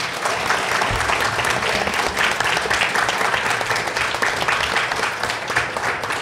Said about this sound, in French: Et Gary, on applaudit surtout à la régie.